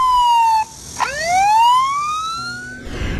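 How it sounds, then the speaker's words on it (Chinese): An electronic alarm from a smart walking cane rings out alone: a steady tone that cuts off, then a loud rising wail that sweeps upward like a siren before fading into low background noise. "原来是妈妈的拐杖发出了警报"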